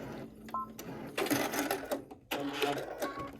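A sewing machine stitches in reverse to lock a seam on a peek-a-boo cosmetic bag, a few short bursts of mechanical whirring with brief pauses between them, close by.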